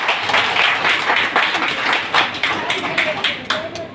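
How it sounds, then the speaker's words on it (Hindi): An indoor audience claps together at a gathering, a dense run of hand claps that swells and ebbs for several seconds, with a voice talking over it. "एक बार उनके लिए जोरदार ताली हो जाए।"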